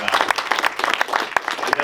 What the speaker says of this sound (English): Another round of applause for Jeff.